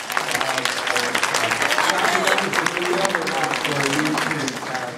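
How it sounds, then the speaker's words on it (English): Audience at a workplace service-recognition event giving a round of applause, sustained crowd clapping with scattered voices mixed in. "Let's hear a nice round of applause."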